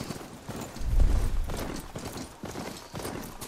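Horse hooves clip-clop at a steady walking rhythm in the video game Horizon Forbidden West, moderately close with soft game ambience underneath and no talking.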